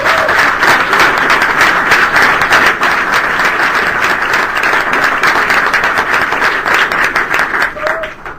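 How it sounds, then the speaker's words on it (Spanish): A church congregation claps steadily in dense, even applause for several seconds before it begins to taper off. "¿Cuánto le damos un aplauso a Jesús?"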